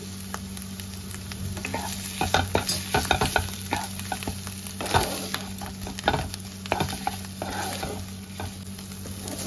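Shrimp and kharkol leaves are stirred in hot oil in a pan, a constant close sizzle broken by irregular scraping and clattering strokes of a spoon.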